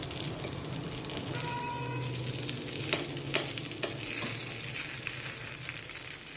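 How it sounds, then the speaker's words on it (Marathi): Carrot appe sizzle steadily in a pan, with a constant close frying hiss and a few faint taps over it. "तर पहा, एका बाजूने हे आप्पे छानपैकी भाजलेले आहेत"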